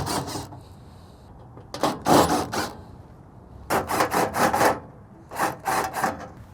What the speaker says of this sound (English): we're going to take off the 6 screws and get to it